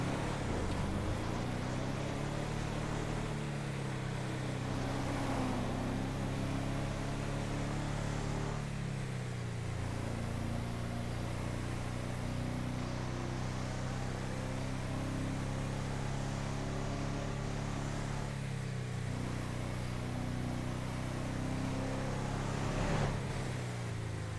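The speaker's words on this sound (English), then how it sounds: "That car was going hella fast there." A car speeding in a video game, its engine droning steadily and loud throughout, with pitch rising and falling as it shifts.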